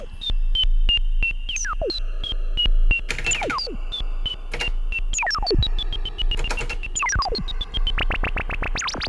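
A Kodamo Mask1 synthesizer's tones jump in stepped pitch patterns from step modulation at reduced speed over a steady ticking pulse, with swooping, descending blips and occasional noisy bursts.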